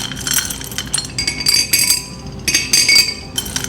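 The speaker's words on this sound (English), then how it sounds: "And we'll just make lots of noise as we put the rocks in there." Bigger rocks poured into a glass terrarium, clattering and clinking in several bright, uneven bursts against the glass, close up and loud.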